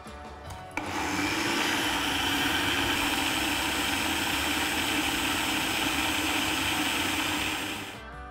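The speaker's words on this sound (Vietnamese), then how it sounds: "Và mình sẽ đem xay nhuyễn nó ra nha." An electric blender grinds cooked mung beans until smooth, starting abruptly and running as a loud, steady, droning whir for about seven seconds before cutting off.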